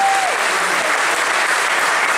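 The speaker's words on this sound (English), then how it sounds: "Let's have a round of applause for Gary and Damon once more, please." Sustained applause from an audience at a film premiere, steady and loud across the whole stretch with no voices over it.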